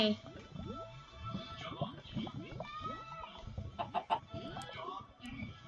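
Chickens clucking in the game Minecraft, a series of repeated short clucks at moderate distance, with people talking over them.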